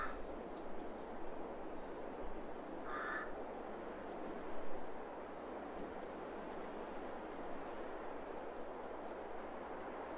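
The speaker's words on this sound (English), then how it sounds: "Little crows running around down there." A single crow caws once in the distance in a farming simulator video game over a steady low rumbling ambience, otherwise quiet and unchanging throughout.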